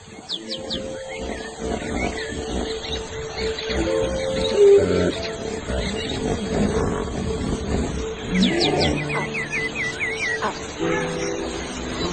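A lioness calls to her cub in the wild with low, rumbling grunts that rise twice in the middle, amid a busy background of bird calls and chirps.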